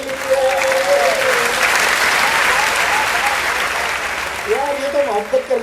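An audience applauds steadily at a kavi sammelan poetry recital in Moradabad, a loud sustained round of clapping from a crowd, with a voice speaking over the start and end.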